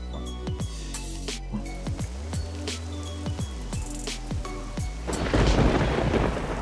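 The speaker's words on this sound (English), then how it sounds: "Now let it rain." Rain and thunder in the survival game SCUM: repeated sharp thunder cracks and rumbles roll over a steady hiss of rain, which swells into a heavy downpour near the end, with no voices.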